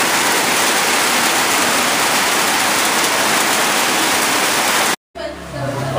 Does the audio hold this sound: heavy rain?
yes